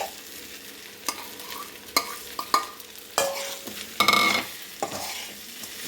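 Idli pieces tossed into a frying pan and stirred, giving a run of sharp scraping and clattering strokes against the metal over a light sizzle, close and fairly loud, with no voices.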